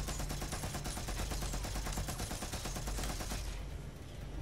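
Dense, rapid video game gunfire rattles continuously in sustained bursts, loud and close, then trails off near the end.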